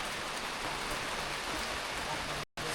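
Heavy rain falling outside, a dense, steady hiss of drops on surfaces, continuous and close, cut off by a brief gap near the end.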